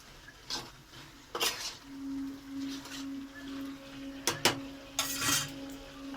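A metal lid set onto a cooking pot of pumpkin greens with hilsa fish head, making a few sharp clanks and rattles close by over a soft steady hum.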